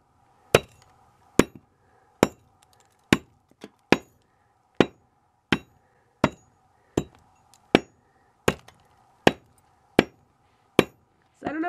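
An iPhone 4S is smashed repeatedly with an axe, giving about fourteen loud, sharp metallic-glassy impacts at a steady rhythm roughly one second apart, each ringing out briefly with a shattering crack, close and with no talking.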